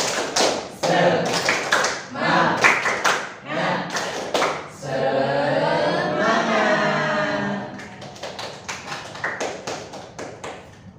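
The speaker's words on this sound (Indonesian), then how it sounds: "Tepuk semangat" In a classroom, a group claps a rhythmic 'tepuk semangat' pattern in sharp, quick bursts, breaks into a chanted vocal passage midway, then returns to clapping.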